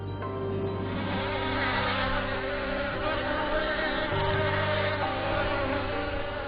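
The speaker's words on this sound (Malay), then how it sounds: "Awal pagi lebah cari makan" Wild honey bees foraging among mimosa and other flowers in the early morning fill the air with a loud, steady, close buzzing of many wings that continues without a break.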